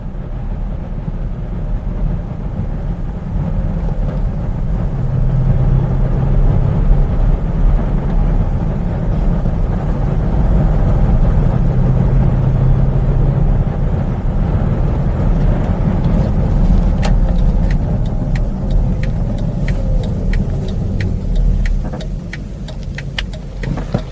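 Mercedes GL450 SUV engine running with a steady, loud close rumble that swells and eases as it revs, with brief ticking near the end and no talk.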